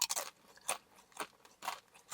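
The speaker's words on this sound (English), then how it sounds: "the crunch kind of make you addicting to eating, like you want to hear the crunch" Close, crisp crunches of cassava chips being bitten and chewed, four or five sharp bursts spaced at a steady rhythm in a quiet room.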